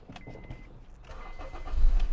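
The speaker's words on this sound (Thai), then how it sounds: "ผมสตาร์ทรถให้ดู" A few light clicks, then a 2012 Honda Accord 2.0 engine cranks and catches, swelling into a low, steady idle near the end.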